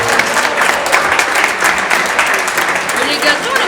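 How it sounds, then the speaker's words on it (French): An audience claps for a hotel pastry chef at a Monaco demonstration, steady dense applause from a crowd, loud and sustained, with a voice speaking over it. "Vous pouvez l'applaudir très fort."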